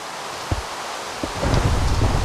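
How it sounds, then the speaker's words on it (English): Minecraft thunderstorm: sharp cracks of lightning around the half-second and just past one second, followed by a swelling rumble of thunder and rain-like hiss that grows louder toward the end. "That lightning got my attention."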